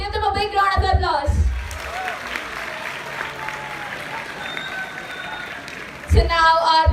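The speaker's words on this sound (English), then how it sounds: "So give them a big round of applause." A room full of people applauding a college coding club team at an inaugural event, the clapping running steadily for several seconds between a speaker's lines, which frame it at the start and end.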